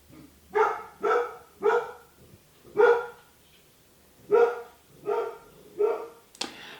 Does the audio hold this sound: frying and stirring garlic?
no